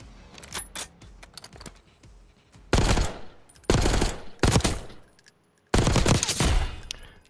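Gunfire on the firing range in the video game Call of Duty Black Ops 6, with sparse early shots followed by three loud sustained bursts of automatic fire separated by quieter gaps.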